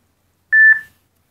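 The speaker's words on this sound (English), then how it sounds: "Text message." Text message notification: a single short, clean electronic beep with a slight double pulse, loud and close, alone in otherwise total silence.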